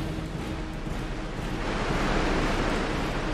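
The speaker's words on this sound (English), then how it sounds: "Hey, there's said waterfall." A waterfall roars in the Aliens vs. Predators Classic 2000 video game, a steady broadband rush of falling water that swells slightly louder toward the end, with no talk.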